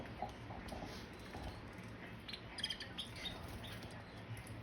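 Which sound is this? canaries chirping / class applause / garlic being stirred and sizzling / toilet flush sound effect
canaries chirping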